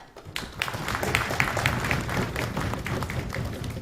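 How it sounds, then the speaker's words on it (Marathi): An audience claps loudly and steadily for Chief Minister Devendra Fadnavis during a youth interaction event, with dense overlapping claps sustained throughout and no talk. "तर सरांसाठी जोरदार टाळ्या"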